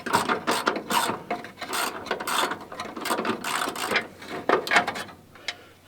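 A ratchet wrench clicks steadily while a bolt comes out during fuel system repair work on a 1987 Chevy R10, with rapid, close, continuous clicking and no speech.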